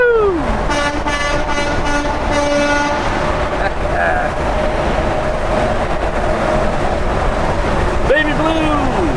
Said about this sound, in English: You honky honky truck you.